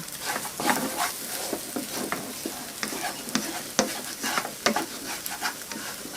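Egg and cucumber stir-fried in a pan for a low-carb dish, with steady frying sizzle and repeated scrapes and clicks of a spatula stirring close by, no voices.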